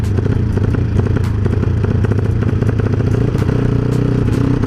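A motorcycle fitted with a CJDW Budinn type exhaust that has a leak, revving loudly up close: a dense, sustained rumbling engine roar with crackling, rattly clatter and brief sharp pops throughout, no talk.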